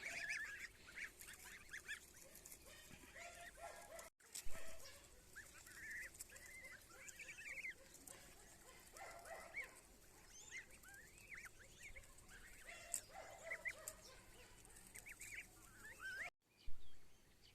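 A flock of geese honks and cackles continuously, overlapping calls at moderate distance with no talking.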